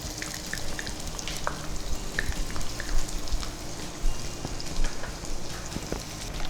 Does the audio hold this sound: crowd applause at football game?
no